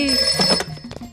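A brief burst of a ringing telephone, bright and loud, trailing off within a second.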